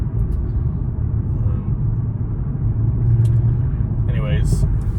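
Audi B9 S5 with a RedStar downpipe driving in sport mode, a loud continuous low exhaust drone and road rumble heard from inside the car, with brief higher noises near the end.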